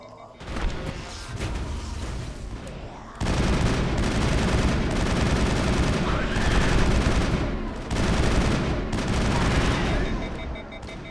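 Dense, sustained automatic gunfire from a sci-fi shooter game, Mass Effect, roaring continuously in loud sustained bursts with brief lulls and a break near the three-second mark, with a voice speaking underneath.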